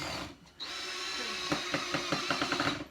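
Power drill driving screws into a wooden bar stool, a whining motor that starts up, then a series of rapid rhythmic clicks as the screw seats, close and fairly loud.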